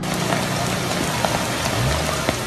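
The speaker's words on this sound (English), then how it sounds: "the heavy rain continues to hit one of the more prone spots in the city" Heavy rain pours onto a flooded city street, a dense, steady hiss of drops and splashes, loud and continuous, with no voices.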